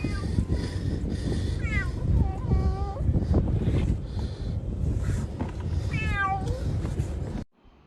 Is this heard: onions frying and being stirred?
no